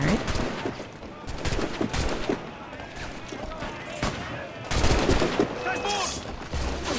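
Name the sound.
gunfire in video game Assassin's Creed Black Flag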